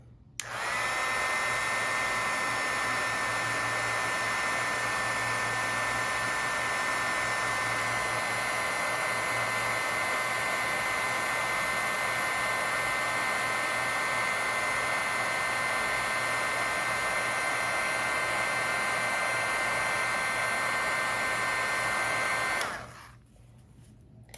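Hot air from a crafting heat tool melts a first layer of embossing powder on a birthday card, with a loud, close, high whining whir held for about 22 seconds before it shuts off.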